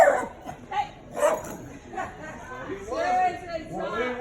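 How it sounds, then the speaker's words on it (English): A dog yips and barks in a store amid an argument, short bursts breaking through loud overlapping talk. "Your dog is causing problems in my store"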